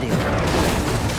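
A fiery Incendio spell is cast in Hogwarts Legacy, giving a dense, roaring whoosh of fire that stays loud and steady throughout the brief burst.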